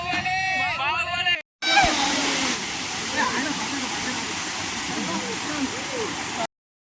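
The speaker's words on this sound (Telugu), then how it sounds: "మేజర్ వాటర్ ఫాల్స్ అయితే మటుకు ఇప్పుడు ఉన్నదే" The major waterfall at Munjuluru gives a dense, steady roaring wash of falling water close by, with a brief cut near the start and scattered voices of people at the falls mixed underneath.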